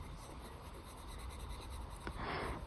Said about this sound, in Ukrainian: дуже сильно не натискаю на олівчик